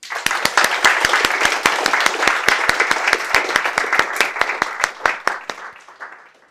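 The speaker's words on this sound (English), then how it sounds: "let's give them a round of applause again" Applause from the audience at a design engineering night, a dense patter of claps with a few sharp, loud claps standing out near the front, sustained for several seconds before thinning and fading away.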